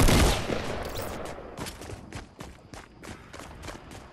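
Rapid volleys of shotgun blasts in a building-and-shooting video game as opponents break through a roof, sharp repeated bangs with a loud burst at the start, then steady irregular shots.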